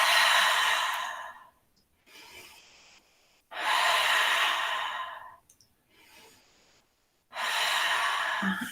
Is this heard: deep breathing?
yes